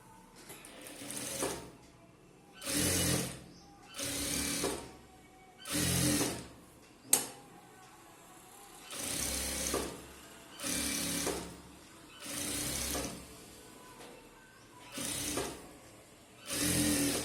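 A sewing machine stitches the side seam of a chudithar top in about nine short, even bursts of rapid mechanical whirring, each separated by a brief pause, heard close and alone.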